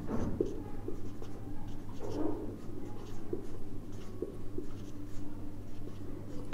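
Pen scratching across paper as an accounting entry is written, soft close strokes in irregular short bursts against a faint hum.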